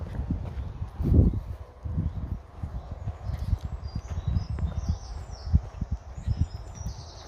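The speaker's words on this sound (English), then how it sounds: "it's nice because you can hear the birds and all the wildlife" Scattered bird chirps and tweets in a park at Sutton Bridge, high above a low rumble of breeze and footsteps outdoors, the calls faint and intermittent.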